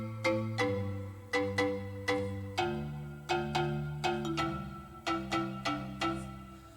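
House-style piano chord stabs from a sample pack play in a rhythmic, syncopated pattern, each bright attack decaying quickly over a sustained low bass note, with no voices.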